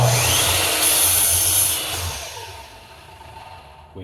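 A power saw blade, just through a wood cut for a frame, whines loudly near at hand and then spins down, its pitch and volume fading steadily toward quiet.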